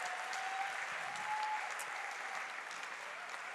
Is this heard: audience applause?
yes